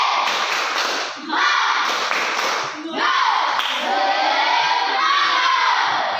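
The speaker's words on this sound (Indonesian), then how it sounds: "Sekali lagi, tepuk semangat." A classroom of students performs a rhythmic spirit clap, with loud, close group clapping and thumping mixed with energetic children's shouts and chanting voices, swelling in two or three bursts.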